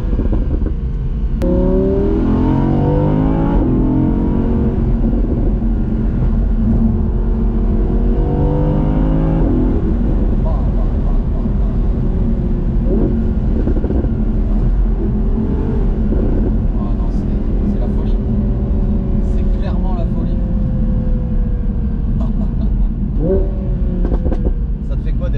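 An Audi R8 Spyder engine revs loudly and steadily from inside the cabin, its pitch rising and falling through paddle-shifted gear changes, with voices talking over it.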